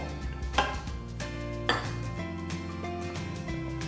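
Mini pizza dough with flour, margarine and salt being stirred in a bowl, with a utensil scraping and knocking against the bowl in irregular close clinks and taps over a faint tonal background.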